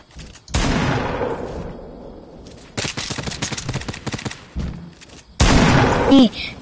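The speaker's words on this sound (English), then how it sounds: "Oh shoot, I'm getting shot at." Gunfire in a Fortnite match: loud bursts of shots around one second, a dense rapid volley near three seconds, then another sharp burst near the end, with a voice heard alongside.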